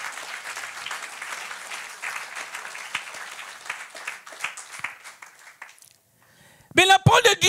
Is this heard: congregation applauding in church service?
yes